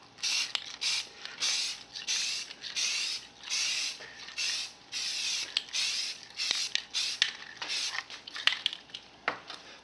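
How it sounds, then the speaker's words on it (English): Rust-Oleum very dark brown spray paint mists down onto O-scale model railway ties in a series of short, close hissing bursts separated by brief pauses, fairly quiet and with no talking. "now I'm going to dust the ties with this Rust-Oleum very dark brown."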